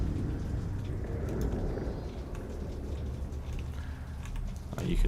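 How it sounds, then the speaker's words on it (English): Steady rain patters across the whole stretch in StarCraft II, with scattered heavier drops and a low rumbling bed beneath, no voices. "Oh, it's raining."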